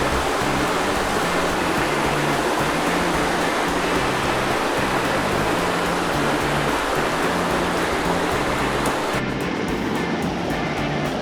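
Bushkill Creek flows steadily through Delaware State Forest in the Pocono Mountains, a loud, continuous broadband rush of moving water close by, with no voices over it.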